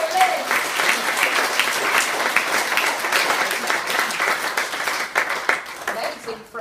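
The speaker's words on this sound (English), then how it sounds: "Please give a round of applause for Liz." An audience at a talk claps steadily, a dense, lively patter of many hands at close range that tapers slightly toward the end, with faint voices mixed in.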